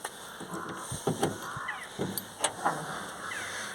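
The trunk of a petrol VAZ-21013 car is worked open, close clunks and latch clicks with a short mechanical whir and rattling thuds spread over a few seconds, no speech.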